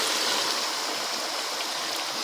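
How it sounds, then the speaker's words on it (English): A pot of water boils rapidly while bihon rice noodles are being cooked, giving a dense, steady rushing bubble that stays close and continuous with no voices. "As you can see, it's boiling very fast because the water is boiled already."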